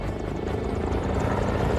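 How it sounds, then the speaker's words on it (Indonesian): Helicopter in a Fast and Furious 7 action scene, its rotor roaring loud and steady throughout with dense low thumping. "memaksa helikopter agar mendarat kembali"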